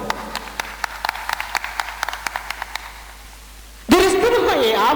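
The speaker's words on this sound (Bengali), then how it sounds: "তাদের জন্য একটা হাততালি হয়ে যায়।" A scattered, fairly sparse round of hand claps sounds for the winning football club at a village event, individual claps distinct, then cut off abruptly by a loud burst of music.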